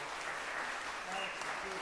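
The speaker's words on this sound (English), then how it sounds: "maybe we should have a round of applause" Brief applause for Alex and Sheila at a church service gathering, a continuous patter of clapping from a group, fairly soft and even, with some voices mixed in.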